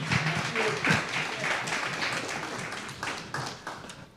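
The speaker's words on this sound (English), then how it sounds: "A round of applause for them, of course." Audience applause at an African Liberation Day commemoration held by a legislature, a steady spread of hand claps filling the room, moderately loud and tapering slightly near the end, with a brief voice near the start.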